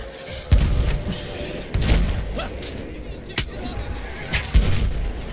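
Heavy artillery blasts in Battlefield 1, several deep booming thuds landing at intervals amid rumbling battlefield noise, with a voice talking over it.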